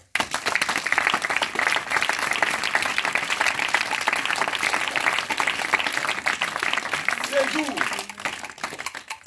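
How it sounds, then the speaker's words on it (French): Sustained applause from an audience at a Good Friday gathering, dense clapping holding steady for several seconds before fading out near the end. "je voudrais bien que vous l'acclamiez très fort"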